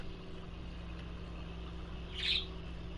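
Near the end, a pet bird indoors lets out one clear, bright chirp against a low, constant indoor hum, with no talking.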